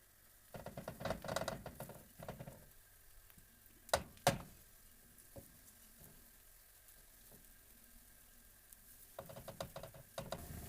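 Apple pancake batter sizzles and crackles softly in a hot pan, with a couple of sharp clinks and scraping bursts near the start and end.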